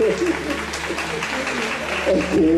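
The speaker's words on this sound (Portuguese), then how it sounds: "Ok, palmas pra ela." Audience applause for a young girl after her dance at a Brazilian film event, steady clapping through the whole moment with voices talking over it and a musical tone sounding underneath.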